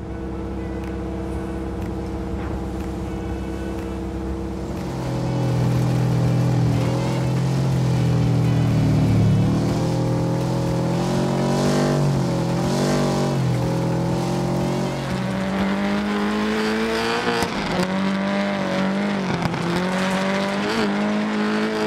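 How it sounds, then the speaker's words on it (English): Engine of a rally car in WRC 10. It idles low, then revs hard and climbs through the gears for a sustained close drone with shifting pitch and some tire noise. No one talks. "the car sounds are an upgrade compared to WRC 9"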